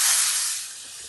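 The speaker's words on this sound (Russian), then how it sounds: "Возьмем 1-2 яблока, поджарим на сковороде, добавив меда." Apples sizzling in a frying pan with honey, a bright loud hiss that starts strongly and slowly fades over a short moment.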